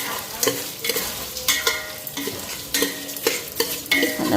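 Mung dal frying with spices in a pan, stirred repeatedly with a spatula, giving rhythmic scraping strokes over a steady close sizzle.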